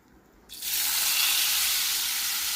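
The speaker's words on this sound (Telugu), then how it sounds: "ఇప్పుడు టమాటాలను కూడా ఫ్రై చేసుకోవాలి" Tomatoes hit a hot pan for tomato mint chutney and a sudden loud hiss of frying starts about half a second in, then holds as a steady broadband sizzle to the end.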